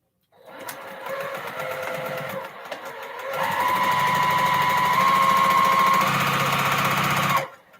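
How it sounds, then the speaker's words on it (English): Sewing machine stitching a quarter-inch seam through decorative fabric with silk for a cathedral window quilt block, a steady close mechanical whir that starts, pauses briefly, then runs faster and louder before stopping. "I'm going to move it over to the machine and I'm going to sew a 1/4-inch seam"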